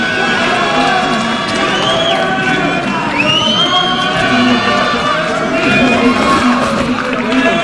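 A crowd at a bantamweight championship bout in Nairobi, Kenya, cheers and applauds the winner with a steady roar, shouts and whistles, while voices talk over it.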